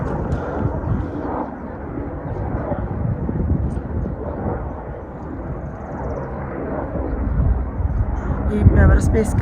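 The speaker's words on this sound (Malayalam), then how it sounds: "ഹെലികോപ്റ്റർ പോകുന്നുണ്ടോ?" A helicopter flies near Everest Base Camp on a Himalayan trekking trail, heard as a steady low rumbling drone blended with gusty wind noise, with people talking over it throughout.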